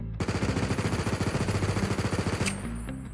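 Automatic gunfire in a Minecraft gun mod fires a fast, even burst of sharp repeated shots lasting about two seconds, followed by a couple of lone shots and a fading tail.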